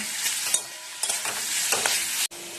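Salted vegetables sizzle in a hot pan as a spatula stirs them, producing a steady near frying hiss with several scraping strokes and a brief break just before the end.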